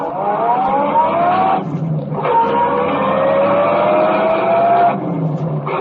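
A car chase sound effect in an old radio drama, a loud roaring engine revving up in two long rising sweeps with a brief dip between them, close and continuous.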